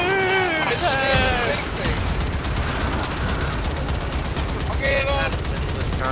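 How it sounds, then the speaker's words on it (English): Gunfire rattles in the game Warframe, rapid repeated shots and bursts in a continuous loud stream, with voices and in-game sound effects over the clatter. "Shoot things! I am shooting them!"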